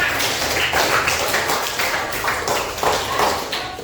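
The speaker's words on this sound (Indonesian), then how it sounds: "Berikan tepuk tangan dulu buat kelas 6." A classroom of students applauds together, a dense, steady clatter of many hands clapping at moderate loudness for a few seconds with no talking.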